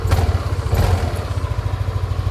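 A Yamaha Aerox 155 scooter engine idles close by with a rapid, uneven rattling clatter from a worn clutch spring and a few knocks near the start.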